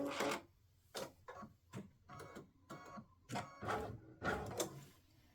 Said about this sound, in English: this just stitches an outline of those areas that you're going to cover up with fabric